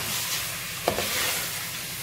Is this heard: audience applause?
no